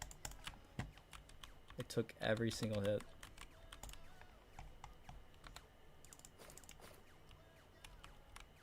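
A computer keyboard clatters steadily with rapid clicks and taps while a game is played at night, and a voice speaks briefly over the typing partway through.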